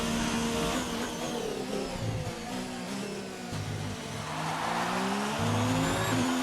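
An F1 car's engine in the F1 2019 video game at the Austrian Grand Prix screams loud and steady, its pitch climbing and dropping sharply with each gear shift, running continuously without talk.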